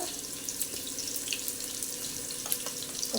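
Green chillies frying in hot oil with cumin and mustard seeds, made for a chickpea offering to Ganesha: a steady bright sizzle with scattered crackles and small pops, no one talking.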